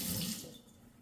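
A teaspoon rinsed under a running kitchen tap, a brief close rush of water that fades slightly within a second.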